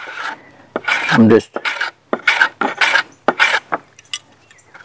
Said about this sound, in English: I've got my block plane set really light, and I'm going to go ahead and chamfer this edge that butts against the piece at the peak.